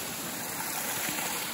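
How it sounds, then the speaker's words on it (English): A small clear stream running across a hiking trail on the Appalachian Trail after a night of heavy rain gives a steady, soft, broadband trickle and rush, close by and alone, with no talking. "little clear stream. There's just water everywhere today."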